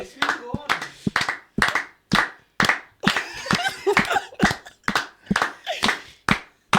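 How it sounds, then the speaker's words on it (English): Sharp hand claps in an uneven series, about a dozen over several seconds, close and loud, with some talking mixed in between. "Clap, clap."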